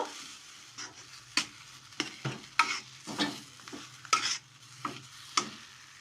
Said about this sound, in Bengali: আবার আরও একটু চাট মশলা দিয়ে এর সাথে মিশিয়ে নেব।